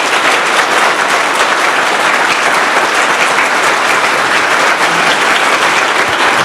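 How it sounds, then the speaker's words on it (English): Steady, dense audience applause at an evening public conversation event with a state governor, loud and sustained throughout with no break and no talk over it. "I hope you'll all give him a round of applause for his willingness to come and do this"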